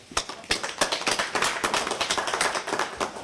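Councillors at a special council meeting clap together in sustained applause, with many close, overlapping hand claps forming a steady, lively patter.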